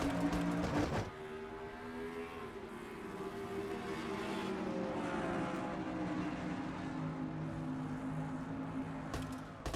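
Race cars roar off the start at the Milwaukee Mile in a racing video game, a loud engine drone that holds steady and rises after a brief burst at the opening.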